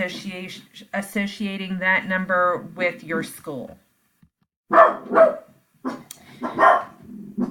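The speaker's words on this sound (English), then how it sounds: "Sorry about the dogs barking." Dogs bark in several sharp bursts, some overlapping, under and between a person's ongoing speech.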